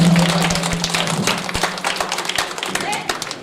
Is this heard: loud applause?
yes